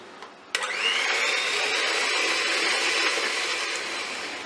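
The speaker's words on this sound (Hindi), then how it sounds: "और अब हम इसको तकरीबन 5 मिनट तक बीट करेंगे।" An electric beater creams sugar and oil for a plain vanilla tea cake batter, starting with a sharp click and then whirring loudly and steadily for several seconds without speech.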